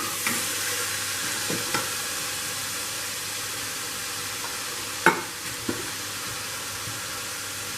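Vegetables for foxtail millet khichdi frying in a pan under a broad, steady sizzle and hiss, with a few scattered spatula scrapes and one sharper knock on the pan midway, no voices.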